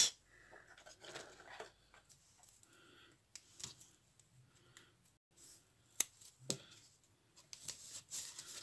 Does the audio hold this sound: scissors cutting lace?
yes